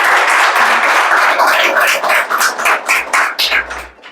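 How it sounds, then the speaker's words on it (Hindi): Loud, dense audience applause at a bank clerical exam selection celebration, a steady wash of many hands that thins into separate claps and fades near the end. "बाकी एक बार जोरदार तालियां हो जाए इसके लिए।"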